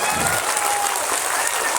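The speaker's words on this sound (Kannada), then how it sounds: "ಎಲ್ಲ ವಿದ್ಯಾರ್ಥಿಗಳ ಪರವಾಗಿ ಜೋರ ಚಪ್ಪಾಳೆ ಬರಬೇಕು" Protesting students at a day-and-night sit-in burst into loud, dense applause, a thick continuous wash of clapping from a large group filling the short moment, with a voice faintly beneath.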